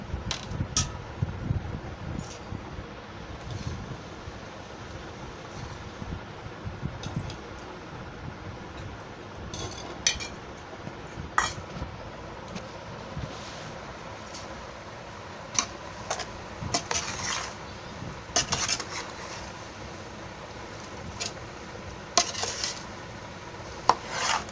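A spoon stirs raw mango pickle with red chili powder in a pot, giving intermittent scraping and clinking against the metal over a low steady hum, with sharper knocks now and then.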